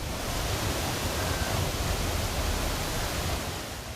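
Waterfalls in Sawai Madhopur, swollen and overflowing after torrential monsoon rain, produce a dense, unbroken roar of rushing water, loud and close throughout with no voices.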